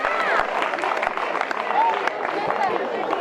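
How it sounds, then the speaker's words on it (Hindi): Applause and crowd noise at a government senior secondary school annual function as a student is called up, dense clapping mixed with chatter and speech babble throughout. "तालियां उसके लिए।"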